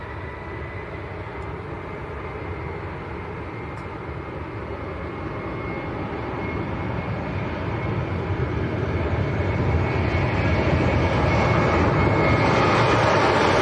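A Jet2 airliner departs Leeds Bradford Airport, its engine roar a broad continuous rush that grows steadily louder as it nears, with no talk.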